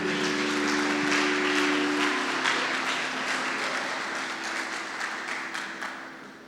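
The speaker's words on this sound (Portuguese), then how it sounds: "Aplauda ao Senhor mais uma vez pela vida dele" A church congregation at a Sunday family service applauds, a broad wash of clapping that starts strong under a fading sustained tone and gradually tapers off.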